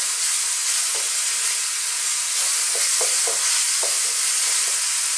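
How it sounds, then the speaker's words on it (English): Mushrooms sizzle steadily in a pan over medium heat, a dense continuous hiss with a few soft stirring scrapes partway through, close and alone without talk. "As you can see, our mushrooms are cooking down beautifully."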